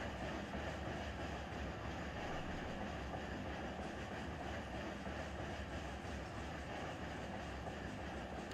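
Train locomotives rolling along in the Run 8 train simulator game, a dense steady rumble and rail roar with faint clickety-clack, continuous and even from start to finish with no talking.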